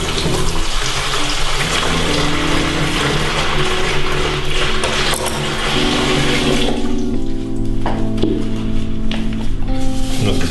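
Water from a tap runs loudly and steadily into a copper tun beer brewing starter kit vessel to sterilise it, a continuous gushing wash with shifting pitch as it fills, plus occasional clinks.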